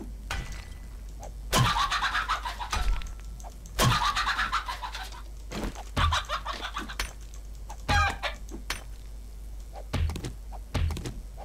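Chickens in the survival game 7 Days to Die give a handful of short, separate clucks spread across the stretch, with recurring low thumps and a steady low hum running underneath. No one speaks.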